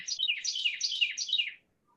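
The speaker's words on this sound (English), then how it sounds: "Nice chirping." A bird chirps in a rapid, high twittering phrase for about a second and a half, fairly clear and alone, then falls silent.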